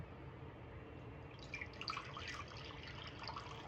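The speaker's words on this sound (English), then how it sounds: "I'm using the water from my drinking glass." Water from a drinking glass is poured while mixing sourdough bread dough, a faint, brief trickle and bubbling splash lasting a couple of seconds over a quiet room.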